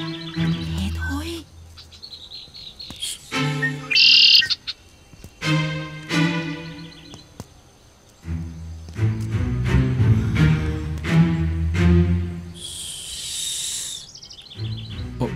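A bird calls and chirps outdoors in bursts of high tweets and longer calls, spread across a stretch where people also talk nearby.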